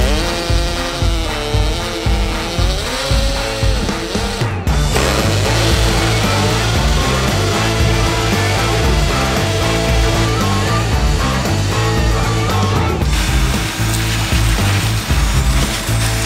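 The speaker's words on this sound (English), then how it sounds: "So we're gonna use a half inch masonry bit." A half-inch masonry bit drills into fully cured dry-pour concrete, a loud, steady grinding roar running throughout with a brief dip in the middle.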